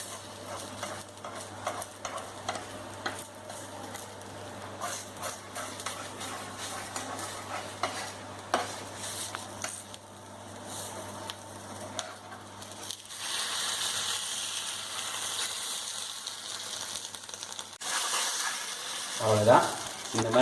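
Egg batter for a karandi omelette fries in a ladle, giving a soft steady sizzle with occasional scraping and stirring clicks, close by, with brief speech in the background.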